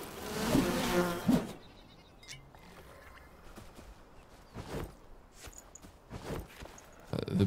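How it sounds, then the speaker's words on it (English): A swarm of bees in the video game Enshrouded, their buzzing rising and falling in several close, loud passes over a quieter background drone. "Oh, the bees are messing me up more than the wolves were."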